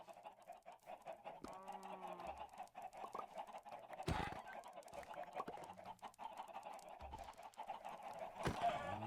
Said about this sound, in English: We do not need this many chickens.